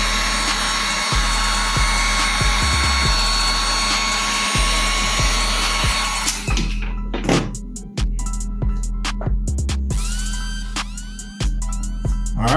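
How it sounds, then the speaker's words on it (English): A small heat gun blows hot air over a sneaker toe cap, a loud steady whirring hiss close by that cuts out partway, followed by scattered light handling clicks and thumps. "Use a little heat gun. Make sure that it's completely dry."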